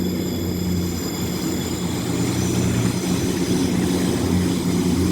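A steady Class 158 diesel multiple-unit train engine drones close by at Aberdeen, a continuous low rumble with a high whine above it, unbroken for the whole stretch.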